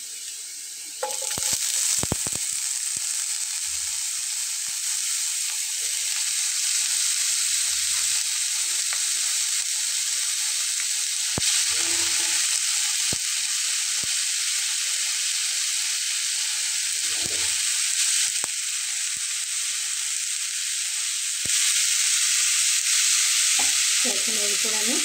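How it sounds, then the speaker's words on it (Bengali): Chopped potatoes fry and get stirred in a pan, with a steady loud sizzle throughout and occasional scraping stirs close by. "এখন আমি এটাতে আলুগুলো দিয়ে নেব, যেটা আমি কুচি করে নিয়েছি।"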